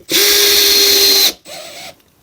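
Power drill set to its lowest speed driving phosphate-coated screws into plasterboard, a steady high whine for about a second, then a brief pause and a second, shorter burst at lower pitch.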